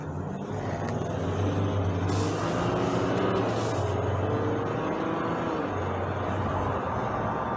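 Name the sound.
2021 Jeep Gladiator EcoDiesel truck accelerating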